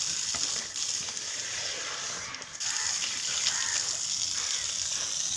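Water runs from a household tap in a steady, hissing gush, moderately close and continuous, with faint voices in the background.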